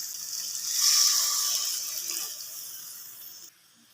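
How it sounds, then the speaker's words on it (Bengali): Water pours into a cooking pot of small fish and eggplant curry, a steady splashing gush that swells early, then eases and cuts off near the end, with no talk. "এবার দেবো পরিমাণ মতো জল"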